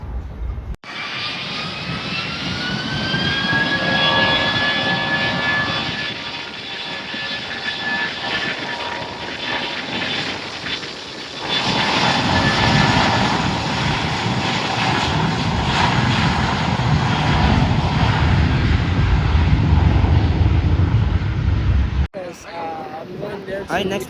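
Airliner taking off from the runway at San Juan airport, a loud sustained engine roar with a rising whine that builds and holds, then cuts off abruptly near the end.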